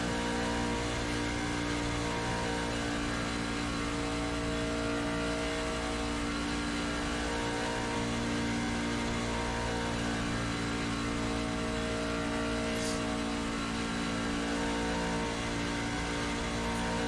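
Race car engines at Talladega in iRacing drone steadily at full throttle, a dense, continuous roar from a pack of cars that holds level throughout without a break.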